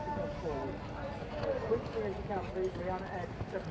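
A showjumping horse's hooves sound on the course at a CSI 3* international show: rhythmic hoofbeats, fairly faint and partly masked by a commentator talking over them.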